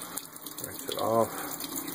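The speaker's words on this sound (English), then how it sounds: "Rinse it off." A cleaned rainbow trout is rinsed under running water, with a short gush of tap flow in the middle of a quiet, hissy background.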